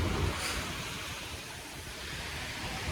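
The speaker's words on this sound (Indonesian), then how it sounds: "di sini ombaknya juga mungkin lagi tinggi-tingginya ya" High ocean waves break at a cliff beach in Gunung Kidul, a loud, continuous rushing roar of surf with wind buffeting the microphone and no voices.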